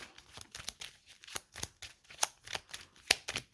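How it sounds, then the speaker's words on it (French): Playing cards being shuffled by hand during a tabletop dinosaur card game, a run of quick, crisp riffling and slapping bursts, close and fairly quiet with no voices. "3 cartes, je mélange."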